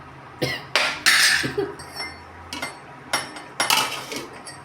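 Dried vala fish curry being stirred in a metal pot with a spoon, then a lid set on top: a series of sharp clinks and scrapes of metal on metal, fairly close, with short pauses between strokes.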